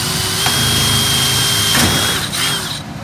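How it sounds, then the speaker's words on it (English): A power drill whines steadily and loudly as it bores screw holes through a metal air return vent in a basement, the motor pitch dipping briefly near the end of the run. "Got my drill ready. I'm going to put in the holes for the screws to hold it in place."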